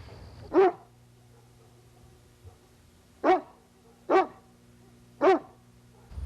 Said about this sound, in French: Marengo, c'est le chien de garde du voisin.